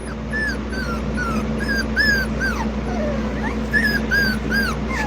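Dogs whimper and yip close by in a repeated series of thin, rising and falling cries over a steady low indoor hum.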